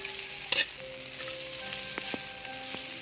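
Pansit gisado noodles made with komeya and miki are stirred in a hot pan, a constant close sizzle broken by a few metal spatula taps and scrapes, with no talking.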